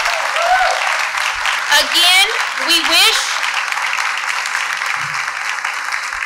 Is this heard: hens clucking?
no